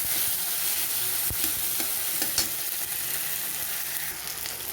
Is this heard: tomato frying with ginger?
yes